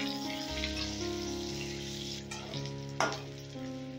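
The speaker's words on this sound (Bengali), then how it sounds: "এবারে নুন হলুদ দিয়ে আলুটা আমি লাল লাল করে ভেজে নেব।" Potatoes frying in oil with salt and turmeric, giving a soft, steady sizzle with an occasional stirring scrape, fairly quiet under a sustained tonal background hum.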